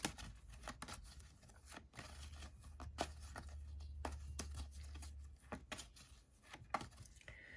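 Tarot cards are shuffled by hand in a quiet room, a run of soft irregular riffles and flicks spread over several seconds, close and faint with a low hum underneath.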